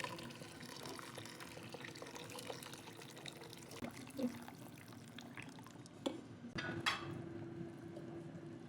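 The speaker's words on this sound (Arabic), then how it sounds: "وهلأ بكب المي السخنة" Hot water pours steadily into a cooking pot holding lentils and rice, giving a soft, continuous splashing wash at low volume with a few brief clinks and splashes near the end.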